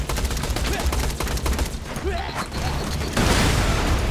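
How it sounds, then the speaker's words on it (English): Explosions and bursts of gunfire from the video game Borderlands 2, a dense, loud barrage of blasts and rapid shots continuing throughout, with a heavier roar swelling near the end. "Whoa! Explosions."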